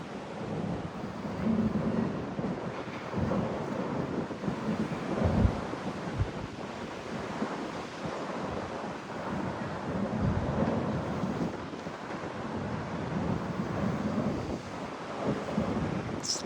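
A light wind on the rooftop of Fort Point, beside the Pacific Ocean under the Golden Gate Bridge, makes a steady rumbling buffet with a surf-like wash, continuous and fairly loud, with no talking.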